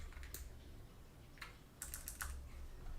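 Typing on a computer keyboard in short irregular bursts of clicks, fairly faint over a steady low hum, with no talking.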